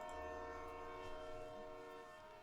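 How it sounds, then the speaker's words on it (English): A steam train's whistle sounds as a sustained, loud harmonic tone over a steady low rumble and rolling clatter, with the train close by. "The Ghostlight Express lurches forward with a 2 short blasts from the train's whistle, followed by a screech of wheels"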